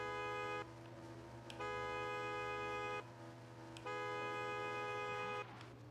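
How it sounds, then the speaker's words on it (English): A car horn sounds in long sustained blasts that keep cutting in and out, three separate honks over a steady engine drone at a drift event at Irwindale Speedway, with no voices. "Sorry about the weird honks there."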